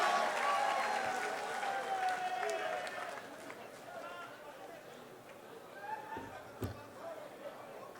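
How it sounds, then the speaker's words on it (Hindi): An audience at a Delhi mushaira greets a woman poet with a broad wash of clapping that starts loud and slowly thins, with crowd murmur and a few sharper claps near the end. "एक बार पुरजोर तालियों में इस्तकबाल करें मोहतरमा मनिका दुबे से"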